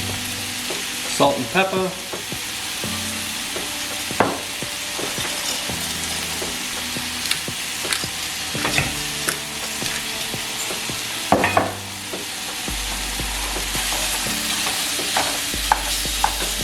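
Ground meat for a shepherd's pie sizzles and fries steadily in a pan, a constant crackling hiss with occasional stirring scrapes and brief louder pops, while a voice speaks briefly over it.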